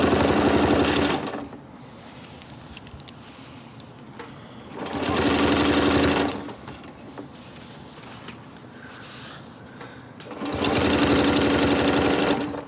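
A sewing machine stitches a Celtic knot quilting pattern in three loud, steady runs of rapid needle hum, separated by quieter pauses with faint handling clicks, close by and with no talking.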